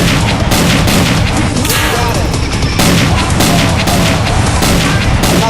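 An anti-aircraft gun is blown up in a flight combat video game: repeated loud booms and crackling blasts pound over a dense roar of engine and gunfire noise.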